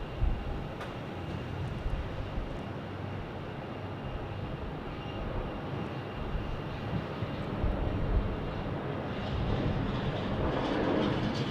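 A United Airlines airliner at Phoenix Sky Harbor Airport makes a steady, broadband engine rumble and roar that holds for the whole stretch, swelling slightly near the end.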